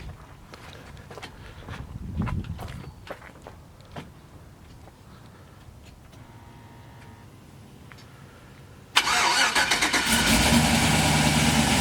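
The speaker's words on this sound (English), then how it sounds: "So what we'll do is we'll cold start." A 1972 Winnebago fitted with a twin-turbo engine cold starts with its exhaust cutout closed: quiet clicks and cranking, then the engine catches abruptly and settles into a loud, steady, rumbling idle.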